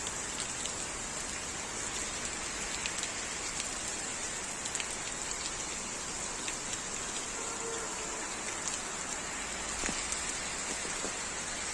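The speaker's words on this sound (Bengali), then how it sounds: "এখন প্রচুর বৃষ্টি হচ্ছে আলহামদুলিল্লাহ" Heavy monsoon rain pours down in a dense, even hiss of drops striking surfaces. It holds steady and close throughout, with no voices.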